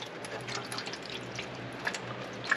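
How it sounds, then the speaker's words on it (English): Water pours into a pan of buffalo ribs with a continuous splashing trickle and a few brighter drips and plinks. The sound is close, fairly quiet and steady, with no speech. "we're going to pour some water in here"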